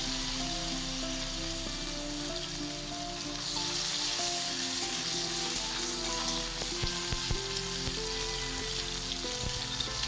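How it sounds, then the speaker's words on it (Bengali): Cut tomatoes fry in hot oil left from frying bata fish, giving a steady, bright sizzle with occasional stirring scrapes throughout, close and unbroken by speech. "ওই তেলেই আমরা টমেটো যে কেটে রেখেছিলাম সেই টমেটোটা ছেড়ে দেব।"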